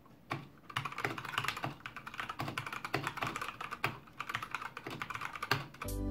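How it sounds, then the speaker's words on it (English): Rapid typing on an Anne Pro RGB mechanical keyboard with tactile, non-clicky Gateron brown switches, a dense run of soft clacking keystrokes with an uneven rhythm, close and fairly quiet. "The model I've got here has the brown switches, they're kind of between black and blues, tactile but non-clicky"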